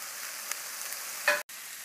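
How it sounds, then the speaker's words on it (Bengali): Noodles fry in a pan while being stirred, a faint even sizzle with a short scraping stir near the end before a brief cut to silence; no one speaks. "এরপর নুডলসটা দিয়ে দিন এবং ভালোভাবে নাড়তে থাকবেন"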